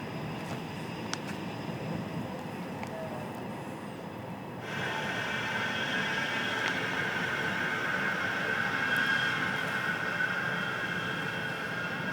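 A tram passes with a steady low rumble that swells partway through, joined by a sustained metallic whine as it draws close, then holds loud and even to the end.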